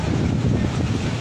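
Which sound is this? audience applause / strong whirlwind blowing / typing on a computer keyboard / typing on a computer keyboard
strong whirlwind blowing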